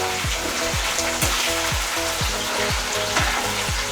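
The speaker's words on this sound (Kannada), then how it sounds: "ಕರಿಬೇವಿನ ಸೊಪ್ಪು ಹಾಕ್ತಾಯಿದ್ದೀನಿ." Curry leaves dropped into hot oil with already-fried garlic for a dhaba-style tomato curry, crackling in a constant sizzle broken by regular soft thumps, heard up close with no talking.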